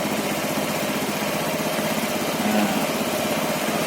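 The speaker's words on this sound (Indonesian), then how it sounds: "itu kan putaran mesinnya sudah goyang" Honda Vario 110 scooter engine idling during carburetor mixture-screw adjustment, a buzzy, slightly uneven putter near the microphone that wavers as the idle turns unsteady, running loud and continuous with a brief spoken interjection.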